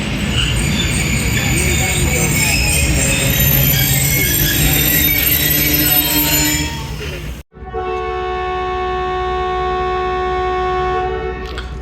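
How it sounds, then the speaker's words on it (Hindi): The Rehman Baba Express departing Sangla Hill junction rumbles and clatters loudly with a blaring horn. After a sudden cut, a steady tonal rolling drone and whine of the moving train follow. "इनिशियल डिपार्चर रिसल हो गया हमारी ट्रेन रहमान बाबा का सांगला हिल्स जंक्शन से"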